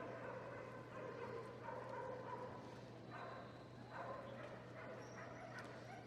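Police dogs at a West Midlands Police display at Crufts 2014 give several faint, distant yips and whimpering barks in bursts over a constant low hum and crowd ambience.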